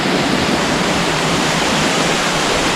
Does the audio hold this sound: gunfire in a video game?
no